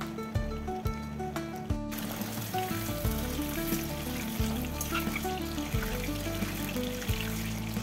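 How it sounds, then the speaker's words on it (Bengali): Potatoes fry in hot mustard oil in a wok for Kashmiri alur dom, a constant bubbling sizzle with a few faint clicks and knocks over it. "তেলটা একটু গরম হয়ে গেলে আলুগুলো আমি ভেজে তুলে"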